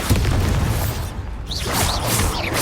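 A Confringo fire spell bursts with a loud booming blast in Hogwarts Legacy, the dense rumble running the length of the moment with a few shrill crackling whooshes on top.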